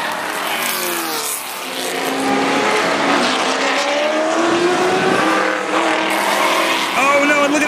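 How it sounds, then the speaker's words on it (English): Vintage muscle cars race at Indianapolis, their loud engines roaring and shifting pitch as they pass close by in a continuous, unbroken stream of motor noise. "vintage muscle cars producing a sound these walls haven't heard in quite some time"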